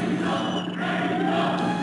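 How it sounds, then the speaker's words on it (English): An arena crowd at an MMA fight chants Mexico, a dense roar of many voices that swells and holds steady at a distance throughout. "Crowd starting that chant of Mexico."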